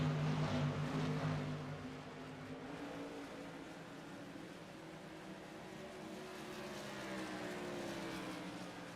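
Modified race cars roar around the Iowa Speedway oval in a TRS Tour Modified Series race, a loud sustained engine drone with a pass sweeping by early and steady pack noise after, no talking.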